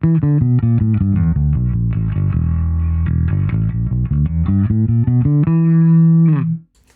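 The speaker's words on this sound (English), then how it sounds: "Here's with the distortion bypass." Electric bass riff played through a Darkglass Vintage preamp with its distortion bypassed, a cleaner, rounder tone, loud and alone, moving notes settling into a long held note that cuts off.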